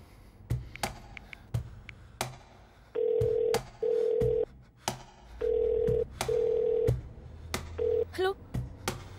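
An electronic phone tone sounds in repeated bursts, interspersed with sharp taps and clicks, while a voice speaks in between.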